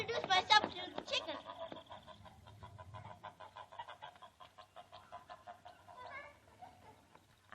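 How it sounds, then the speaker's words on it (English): Clucks from a farmyard chicken come in a quick rhythmic series, fairly close but quiet, after a burst of louder voices at the start, with talk lingering in the background. "I'll introduce myself to the chicken."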